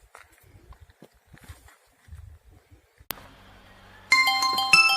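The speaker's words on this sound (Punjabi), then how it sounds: "ਫੋਨ ਆ ਗਿਆ" A mobile phone rings with an incoming call in a quiet room, the electronic ringtone starting suddenly and repeating loudly after brief movement and soft rustling.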